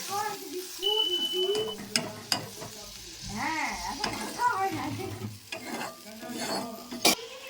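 Water poured over a spatula into spice paste frying for an aar fish curry, giving bursts of sizzle and spatula scraping against the pan, with a voice talking over parts of it.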